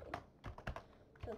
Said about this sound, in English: you can type in the username you want to pay to